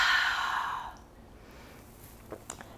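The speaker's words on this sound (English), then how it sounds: "Exhale through the mouth." A long, audible exhale through the mouth during a guided yoga breathing exercise, loud and breathy at first and then tapering off, followed by quiet with a couple of faint small sounds.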